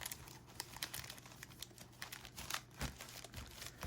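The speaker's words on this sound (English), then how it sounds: "We're gonna mix them up, shuffle them like a deck of cards" Crinkly rustling and quick slapping of foil Magic: The Gathering collector booster packs being shuffled by hand, irregular taps and crackles close up.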